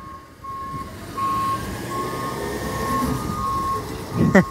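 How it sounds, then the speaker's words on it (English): A turbocharged CNG garbage truck idles and rumbles nearby while a steady reversing beep repeats, with a brief clatter at the end. "Turbo Charged... CNG garbage truck."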